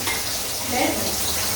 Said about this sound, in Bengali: আমাদের সব মাছগুলো ভাজি করা হয়ে গেছে।